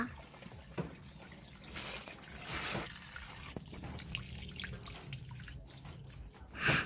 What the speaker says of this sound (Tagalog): Ilalagyan na guys ng gatas.